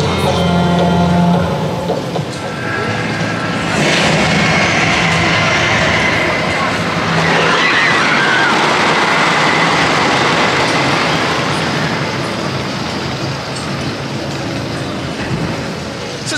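Wooden roller coaster train at a theme park rumbling along its track, a loud, sustained rolling roar with rattling, swelling as it passes, with a faint background voice.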